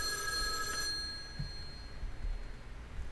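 A single telephone ring cue played back from MultiPlay show-control software: a bright electronic bell trill for about a second, then cut off, leaving faint room noise.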